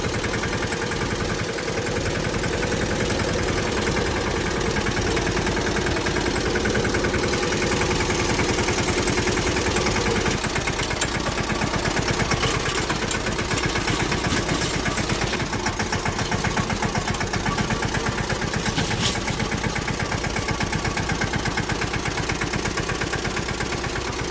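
A tractor engine runs steadily and loudly throughout, a continuous rumbling drone with a knocking, vibrating edge, heard close up in the rainy season.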